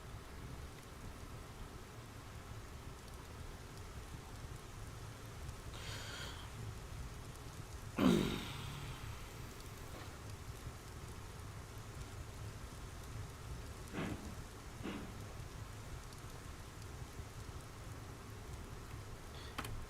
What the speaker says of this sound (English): now the rain's going to soak the rails